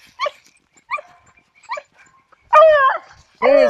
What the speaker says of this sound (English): That was Lily barking.